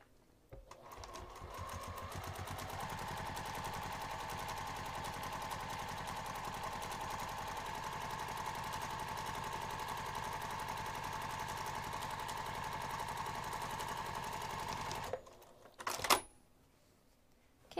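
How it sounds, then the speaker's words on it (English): Sewing machine topstitching a pressed fabric edge at an eighth-inch seam allowance, a faint steady mechanical whir starting after a second and running evenly for about fourteen seconds, then stopping with a couple of small clicks. "we're going to top stitch this pressed edge using an eighth of an inch seam allowance"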